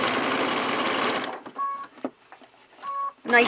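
A sewing machine runs a close top stitch along a quilt edge in a steady, loud whir, then stops and gives a few short bursts and clicks.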